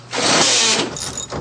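A power drill bores up through a frame for about a second, a loud steady whine with a grinding texture, then stops and leaves some faint rattling.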